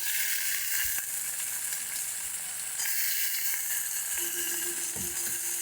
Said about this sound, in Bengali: পেঁয়াজটা একটু নুন দিয়ে ভেজে নিই। পেঁয়াজটা ভাজা হয়ে গেছে, এর মধ্যে কাঁচা টমেটো আর লঙ্কা, কাঁচা লঙ্কা দিলাম।